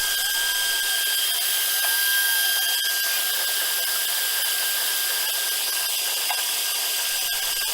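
A machine, likely a CNC router, carves the small scoring numbers into a wooden cribbage board, giving a steady high whine that holds loud and unbroken throughout.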